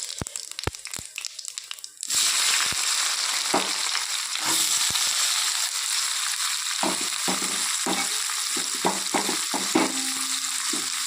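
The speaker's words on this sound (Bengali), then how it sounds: "পেঁয়াজটাকে লাল লাল করে ভেজে নেব" Chopped onions and whole cumin seeds dropped into hot oil for mutton, a few sharp ticks and then a sudden loud sizzle that continues steadily, broken by spatula scrapes and clicks.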